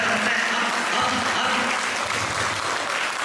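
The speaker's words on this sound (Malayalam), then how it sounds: "എല്ലാവരും കൈയടിച്ച്" Everyone in a music programme audience claps at once, a thick, sustained wash of applause with faint voices under it.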